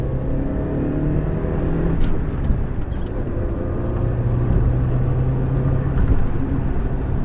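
A 1994 Lancia Integrale Evoluzione 2 engine drones steadily and close, its pitch holding with slight rises as it pulls, alongside a constant whirring road noise.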